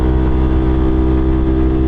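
A Yamaha Aerox 155 scooter engine strains uphill on a dark night ride along Marilaque, a loud, steady, close droning hum with no let-up throughout.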